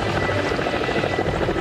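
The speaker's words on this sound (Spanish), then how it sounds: "El helicóptero que se utilizó para el rescate trasladó a grupos de 12 personas" A rescue helicopter over Antarctica, ferrying stranded passengers to an icebreaker, roars continuously with a loud, close, dense rotor and engine drone throughout.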